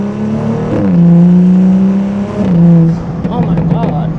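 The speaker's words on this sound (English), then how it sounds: "I try not to go too crazy with the burble settings on here." Stage 2 BMW 435i exhaust revving with a loud rising and falling engine drone, two strong rev swells followed by crackling burble pops as the throttle drops, close up.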